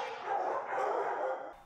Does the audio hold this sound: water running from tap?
no